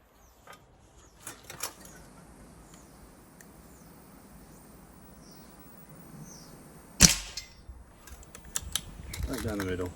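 Air rifle pellets from an S400 strike a metal Dragon knockdown target downrange, giving sharp isolated cracks and clanks spaced a few seconds apart over quiet outdoor ambience, with one louder hit and brief voices.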